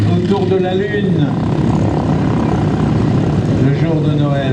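A Beech 18 twin-engine propeller plane takes off at the La Ferté-Alais airshow, giving a steady, loud droning engine hum while someone talks over it throughout.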